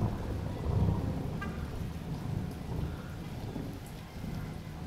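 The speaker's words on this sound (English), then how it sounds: "And you can hear the thunder." Steady rain pours down on Hamilton Mountain with low rumbles of thunder rolling underneath, a continuous wash of sound with no voices.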